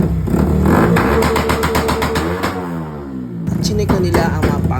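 Motorcycle at a motor show started and revved for judges, a close, loud engine blipping up and down in pitch with rapid rises and falls, a short cut, then another rev with clattering, under a voice.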